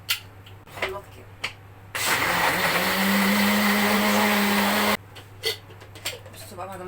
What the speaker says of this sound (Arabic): نحط كل ده كده هنا في الخلاط